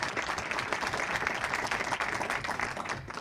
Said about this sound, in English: please join me in giving them a great round of applause for a job well done